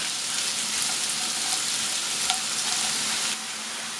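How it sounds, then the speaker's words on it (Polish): Steady close sizzling of onion frying in a pan over medium heat, a dense hiss with faint stirring clicks, dropping slightly in level near the end. "na średnim ogniu podsmażamy kilka chwil, żeby nam się tak leciutko zarumieniła też cebula"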